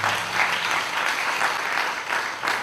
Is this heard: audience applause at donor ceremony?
yes